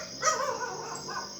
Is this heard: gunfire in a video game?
no